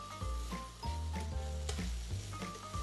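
Chicken gyro meat reheating in a frying pan, a steady close sizzle with occasional crackles and stirring scrapes, under a low background hum.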